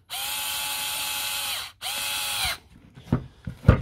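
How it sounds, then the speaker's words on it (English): A long screw is driven into a damaged power tool housing with a cordless drill, two steady whirring runs with a brief pause between, followed by a few light clicks and handling knocks. "Drive the long screw up."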